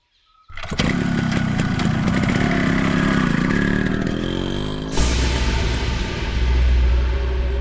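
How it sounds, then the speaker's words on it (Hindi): A motorcycle engine starts and revs up nearby, running loud and steady, then its tone shifts as the bike pulls away, with no talking over it. "अभी अभी मेरा बेटा निकला है अपने बाइक पर।"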